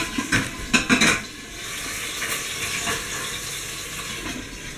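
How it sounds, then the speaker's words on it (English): Chopped onion dropped into hot oil in a pan while cooking Corn Schaf, with clattering utensil stirs at first, then a steady close sizzle and crackle. "And now we have our onion added to it."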